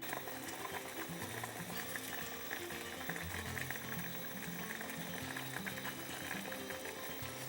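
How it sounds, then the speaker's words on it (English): Vegetables and pollock fish roe simmer in stock in a clay pot, a steady low bubbling with a hiss running throughout, close and fairly quiet. "When the stock comes to a boil, we'll add the pollock fish roe."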